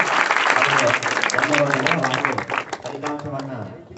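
A group of students at a government high school claps to celebrate school parliament election results, a dense burst of applause that thins out and fades while a voice talks over it.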